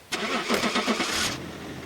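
A car engine cranks and catches, a loud close burst of starter whir and ignition lasting about a second, then settling into a steady idle as the vehicle prepares to reverse.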